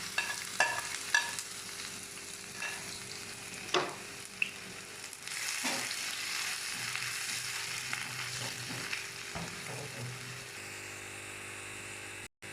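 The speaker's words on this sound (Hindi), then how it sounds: "प्याज डाल दिया और इसे हल्का सा ब्राउन करूँगी, बिल्कुल हल्का सा" Onions sizzle steadily in a pan while being lightly browned for brinjal bharta, a continuous close frying hiss broken by occasional clicks and scrapes of a spoon, with no talking.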